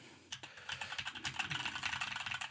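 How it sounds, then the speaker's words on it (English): Typing on a computer keyboard picked up by a Maono AU-HD300T microphone in a quiet room: a steady run of close, quick key clicks with uneven rhythm after a short pause at the start. "Now, let's do a keyboard test."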